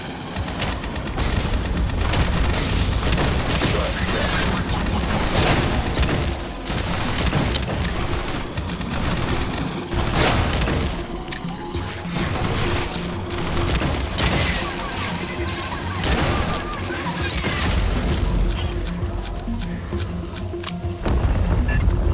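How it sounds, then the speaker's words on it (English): Sentry guns fire in sustained automatic bursts in the Aliens Fire Team video game, loud and dense, with booms, crashes and clanking mechanisms mixed throughout the battle. "Pop up sentry guns. Shoot them from range."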